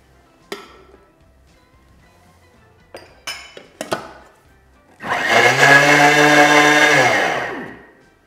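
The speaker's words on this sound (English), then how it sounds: "we will start off by sifting the flour" A Thermomix spins flour at high speed to sift it for baked mooncake skin. A few sharp clinks come first, then a loud, steady whir lasts about two and a half seconds before winding down.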